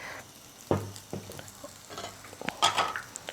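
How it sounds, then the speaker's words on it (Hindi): Omelette mixture is poured into hot oil in a pan and starts to fry, giving quiet crackling sizzle with a few sharp pops and clinks from a spatula or utensil. "और थोड़ा सा हम इसमें और डाल देंगे ये जो हमारा ऑमलेट का मिक्सचर है"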